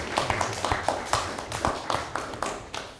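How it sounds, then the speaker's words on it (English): At a policy lab event, a small audience applauds a speaker with sparse, uneven claps, fairly close and moderately loud, over a low background murmur. "I think he deserves a round of applause again."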